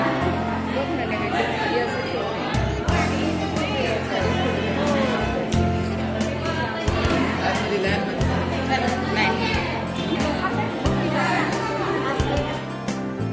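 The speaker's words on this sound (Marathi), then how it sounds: "तर हे बघा किती गर्दी आहे मंदिरामध्ये." A packed temple in Satara is filled with dense crowd chatter, a continuous close babble of many voices with occasional clear nearby speech and sharp knocks.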